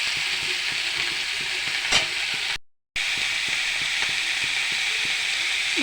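Pumpkin and potatoes stirred into shrimp frying in a pan, a loud continuous sizzle and hiss with soft rhythmic stirring taps and a brief dropout partway through.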